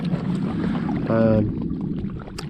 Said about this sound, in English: we're out on the lake now on Llangirionnydd. There's a little bit of a wind going, not much